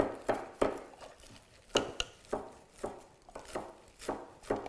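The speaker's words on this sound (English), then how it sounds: "this requires a little more chopping" Knife chopping ingredients for lima beans, yucca and salad on a board, with about a dozen sharp, distinct cuts in an irregular rhythm, close and fairly quiet, no talking.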